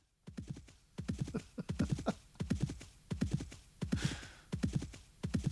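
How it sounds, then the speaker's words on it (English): A horse galloping sound effect from a SoundFont/DLS synth player app gives repeated clusters of hoofbeats in a steady galloping rhythm, clear and close, with a brief whinny-like burst midway. "So you do get a horse galloping."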